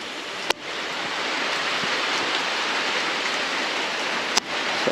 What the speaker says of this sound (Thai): ฝนตกก็สิชื้นๆนิดนึง